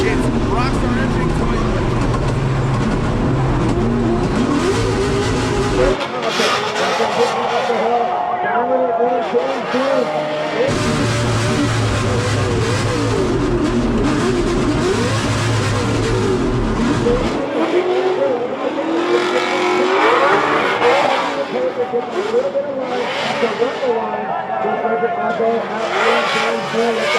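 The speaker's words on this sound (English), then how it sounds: "Fredric Aasbo initiates Rockstar Engine" Formula Drift cars drift at Road Atlanta with loud, continuous engine roar and tire squeal, the noise surging and easing in waves while a commentator talks over it.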